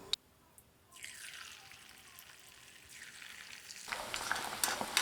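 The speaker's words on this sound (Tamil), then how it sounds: "இப்போ எண்ணெய் காஞ்சிருச்சுங்க. இப்போ பொரிச்சு எடுத்துக்கலாம்." Battered chicken manchurian pieces drop into hot oil and erupt into a bright sizzle, quiet at first, then swelling again as more pieces go in. The frying is close and fairly soft, with no talking.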